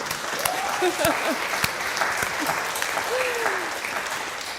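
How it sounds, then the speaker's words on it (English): Steady, continuous applause from a seated audience at a women and leadership event, dense and even throughout, with faint voices underneath. "which deserves a round of applause, I think."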